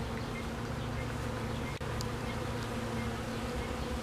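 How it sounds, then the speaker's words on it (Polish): Honeybees buzz continuously nearby, a steady dense hum of many insects with no talking. "popatrzmy na te pszczoły no proszę Państwa tak patrzę na te pszczoły"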